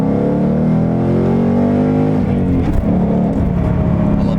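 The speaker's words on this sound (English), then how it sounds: "We're in track mode right now with the exhaust." A loud, deep Mustang exhaust in track mode rumbles steadily up close, throbbing and shifting pitch slightly as the engine idles and revs.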